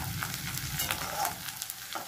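Chopped chili frying in a pan for a shrimp and water spinach (kolmi shak) dish, a steady close sizzle with light stirring scrapes and no talking.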